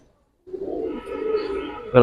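Fighter pigeons in a loft coo in a steady, low rolling murmur after a moment of silence, close and continuous, ending with a short louder burst.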